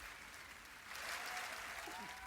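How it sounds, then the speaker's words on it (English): A group claps during a tabletop role-playing game session, quiet steady clapping that swells louder about halfway through, with a few voices faintly audible underneath. "No, not the clapping, guys."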